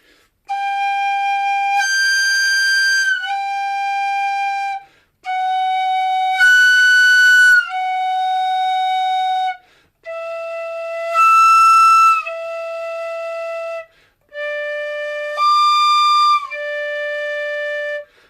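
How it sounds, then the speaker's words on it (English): Tin whistle playing a slow beginner practice run of sustained notes, stepping down from G and back up, with clean breathy tones separated by brief gaps, alone and close. "practice that slowly and use all the notes on your whistle"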